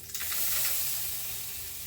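Four cloves of garlic and onions fry in a pan with a bright, close, continuous hiss that starts with a small spatter and then holds steady and loud, no voices.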